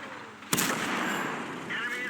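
A single loud tank cannon blast in World of Tanks on the Topography map, a sharp broadband report followed by a sustained rumbling roar and background battle noise.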